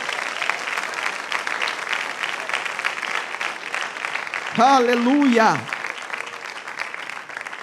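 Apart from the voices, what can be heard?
congregation applauding in church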